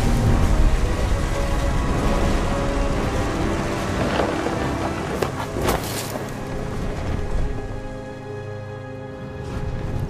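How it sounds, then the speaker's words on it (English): Thunder from the video game What Remains of Edith Finch, a heavy storm of rolling rumble and crackling bursts over steady rain and wind near the sea, fading toward the end. "The thunder sounded much too close and full of angry power."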